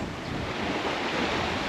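Steady crosswind of about 12–13 knots rushing past a sailboat under code zero sail at sea off Syracuse, a dense continuous roar of wind and wash with no voices, loud and even throughout.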